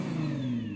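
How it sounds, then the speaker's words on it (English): A Nissan GT-R engine revs in a short, steady burst, its loud, close mechanical drone holding even and slightly climbing in pitch. "Go on, rev up the GT-R."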